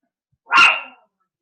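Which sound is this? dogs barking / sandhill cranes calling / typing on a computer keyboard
dogs barking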